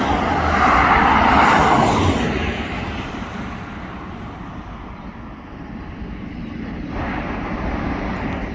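A lorry passes along a road near Port Talbot Steel Works with a broad rushing roar that peaks early and then fades into a steady low rumble of heavy traffic. No one speaks.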